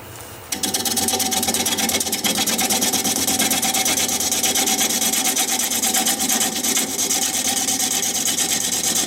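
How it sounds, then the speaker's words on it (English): A wood turning gouge is sharpened on a grinder, a loud continuous rasping grind that starts abruptly and holds steady, close and alone without talk. "Sharpening again."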